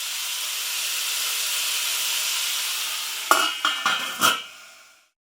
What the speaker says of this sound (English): Keep stirring to make sure everything gets nice and hot.